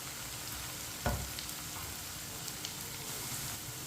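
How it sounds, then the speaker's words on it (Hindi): Okra cooked with gram flour in a pan gives a steady, faint sizzle and crackle, with one brief scrape or stir partway through. "अब इसे दोबारा 2 मिनट के लिए पकने देते हैं।"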